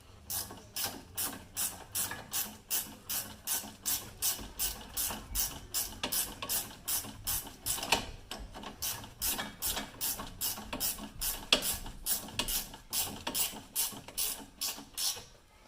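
Ratchet wrench with a 15 mm socket working a strut fastener on a 2017 Ford Escape front strut, giving a steady run of rapid clicking pawl strokes in regular bursts, close and clear with no talking.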